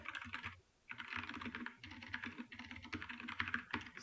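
Quick, close clicking of keys on a computer keyboard as text is typed, in continuous bursts with a short pause near the start, with no talking.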